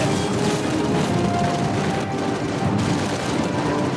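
Dense, sustained gunfire in Halo Reach, a continuous rattling barrage of overlapping shots and blasts from a battle, loud throughout with no clear pauses.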